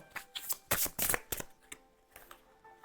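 Tarot cards being laid out and covered in a card-reading session, a quick series of crisp shuffling and slapping card sounds in bursts, fairly close, fading to quieter handling near the end.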